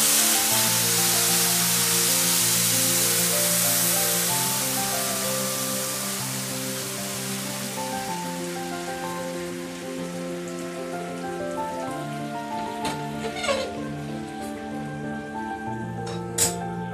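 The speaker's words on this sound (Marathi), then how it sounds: "आता मी यामध्ये गुळाचं पाणी घालतोय." Boiling jaggery water is poured into a hot pan for a Maharashtrian ravali sweet, giving a strong hiss that gradually fades over several seconds beneath steady background music.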